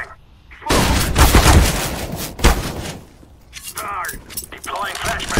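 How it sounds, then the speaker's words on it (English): In a CS:GO match, a flashbang grenade goes off with a loud, sharp blast, then a second burst and a ringing decay over busy gunfire-like game noise. "Throwing a flashbang. Deploying flashbang."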